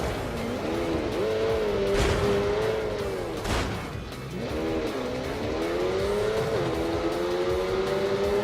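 Fast car in The Grand Tour video game revving hard through the gears, engine pitch rising and falling with each shift, tires briefly squealing, loud and continuous throughout.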